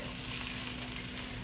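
Onion and garlic sizzle steadily while being sautéed in a cooking pan, a soft, even frying hiss with no voices, continuous and close.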